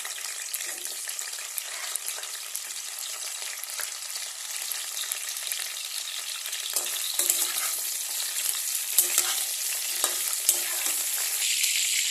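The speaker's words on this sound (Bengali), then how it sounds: "আলু আর ফুলকপিগুলোকে আগে একটু ভাজা করে উঠিয়ে নেব।" Potatoes and cauliflower fry in hot oil in a wok, giving a steady bright sizzle and crackle throughout with occasional sharper pops, close and with no voices.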